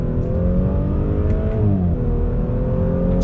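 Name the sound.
Audi S4 turbo engine accelerating onto highway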